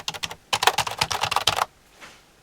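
Typing on the proper full-size keyboard of a modern ZX Spectrum computer, a close, rapid run of crisp key clicks that stops abruptly, followed by quiet.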